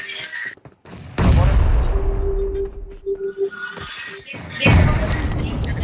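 Enemy bombing and gunfire in a video game: loud, close bursts of explosive blasts and rapid shots, with a sustained roaring stretch, a short pause, then another heavy burst, mixed with a tonal game sound.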